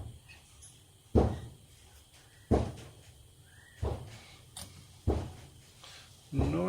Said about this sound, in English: The noise you can hear in the background is my neighbour beating her rug.